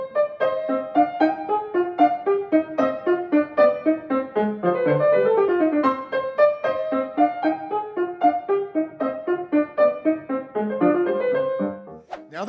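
Opening tune of a rondo, played as a lively melodic instrumental passage with clear repeated note patterns and steady rhythm, heard continuously and alone without talk.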